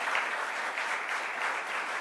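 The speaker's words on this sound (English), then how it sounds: "Let's give them another round of applause." Audience applause at a government event honoring New York State law enforcement, an even, continuous patter of many hands clapping at moderate volume, with no voices over it.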